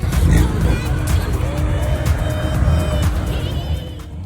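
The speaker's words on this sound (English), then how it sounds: "Here's a BMW M3 rolling in." A BMW M3 rolls in at a cars and coffee meet, its engine a loud, close rumble under a busy crowd, with a tonal drone held steadily for several seconds.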